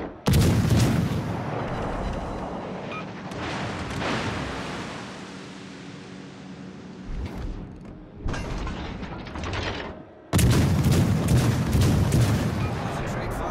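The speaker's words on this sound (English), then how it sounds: "Concentrate fire on the enemy warship." Heavy warship artillery salvos in a naval battle game, deep booming blasts rolling out in bursts with long rumbling decay, interrupted by radio-style voice callouts.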